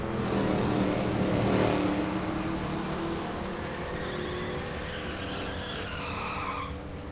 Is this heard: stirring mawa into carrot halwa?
no